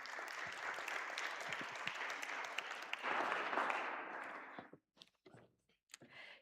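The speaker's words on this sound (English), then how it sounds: "would you give a round of applause to our speaker, Sophia Sanya-Humby" An evening church audience at Christ Church, Beckenham gives a quiet, dense round of applause for a speaker. It rolls on for several seconds, then breaks off into a few scattered claps and thumps.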